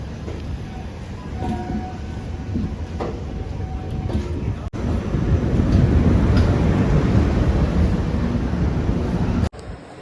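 Low rumble of a train at a railway station building to a loud, steady roar as it moves through, with brief cutouts and faint voices earlier.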